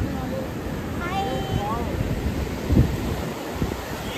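Ocean surf and steady wind at Golden Sand Beach near Poovar, a constant broadband wash with wind buffeting the microphone, a faint whistle-like tone and a soft thump partway through.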